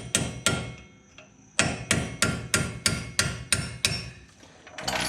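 A hammer strikes a punch to drive a caliper spring clip off a Jeep CJ7 front brake, sharp metallic blows close up, two early hits then a steady run of about eight evenly spaced strikes, with no voices.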